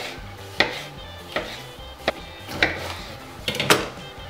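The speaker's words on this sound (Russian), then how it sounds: "нарезать болгарского перца" A knife chops bell pepper on a cutting board in a home kitchen, with about six distinct thuds at an uneven pace, close and moderately loud, with faint kitchen rustle between strokes.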